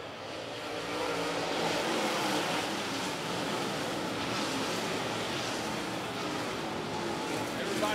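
Outlaw late model race cars run single file around Sumter Speedway, a steady distant roar of several engines blending into a continuous wash of noise for several seconds.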